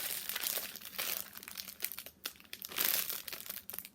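Plastic bag holding fabric crinkling close up, loud continuous rustling and crackling in handled bursts for a few seconds, with no voices.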